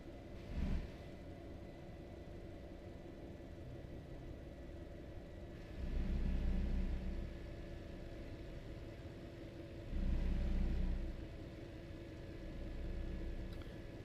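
A modded truck engine from a video game idles at a low steady rumble, swelling into deeper throaty surges a few times before settling back, heard close and alone.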